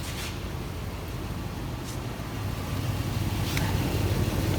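A 2014 Nissan Armada Platinum idling smoothly, heard up close as a steady low engine hum that grows slightly louder partway through, with no voices.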